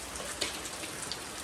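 Rain pours down steadily outdoors on an evening after a full working day, a dense, even hiss with a few sharper drop ticks on a surface and no voices.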